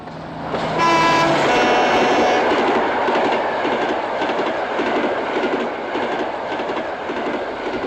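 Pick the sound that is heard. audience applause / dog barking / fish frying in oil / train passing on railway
train passing on railway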